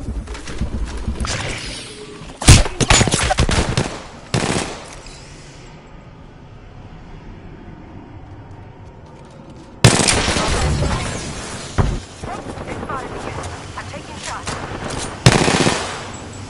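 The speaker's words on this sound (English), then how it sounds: "Making contact with enemy. Opening fire." Bursts of automatic gunfire in a PS4 video game, loud rapid volleys around the start, then a quiet stretch before more heavy firing and sharp shots return toward the end.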